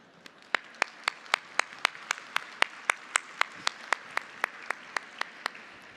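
An audience welcoming a speaker onto a stage at a Google Cloud tech talk claps in a steady, evenly spaced rhythm, about three crisp claps per second, over a quiet room hum with no talking.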